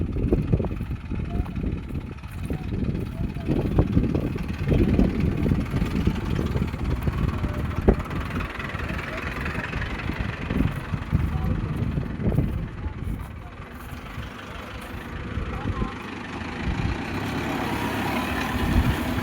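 A tractor pulling a heavy harrow through a field rumbles with a steady engine drone, someone talking over it much of the time, the engine note dipping briefly before picking up again.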